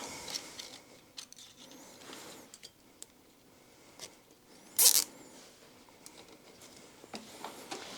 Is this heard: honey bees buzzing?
no